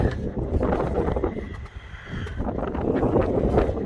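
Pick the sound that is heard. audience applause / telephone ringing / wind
wind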